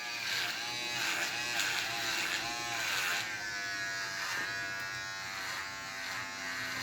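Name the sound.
electric clippers shaving a head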